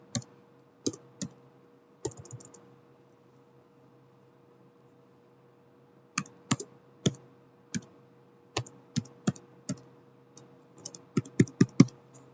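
A password is typed on a computer keyboard: sparse, close key clicks come singly and in short bursts, with a long pause, then a quicker run of taps at the end.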